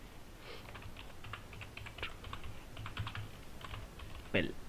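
Fast, light keystrokes on a computer keyboard in short irregular bursts while entering data in Tally accounting software, close but quiet, with a louder key press near the end.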